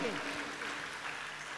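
An audience claps for a performer at a gathering, a dense and even wash of applause with a voice briefly speaking at the start.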